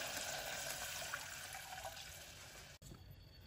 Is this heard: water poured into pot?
yes